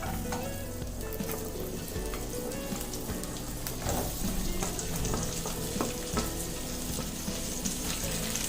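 Chopped onions frying in a pan for sweet corn pulao give a steady, dense sizzle with crackling pops and occasional stirring scrapes, continuous and close throughout with no talking.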